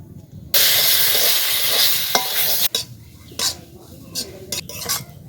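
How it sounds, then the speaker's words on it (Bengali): Water is poured into hot fried semolina in a pan for halwa, setting off a loud burst of hissing steam that cuts off abruptly, followed by intermittent scraping stirs against the pan. "জল দেওয়ার পর আমি সুজিটাকে হালকা করে ভেজে নিলাম।"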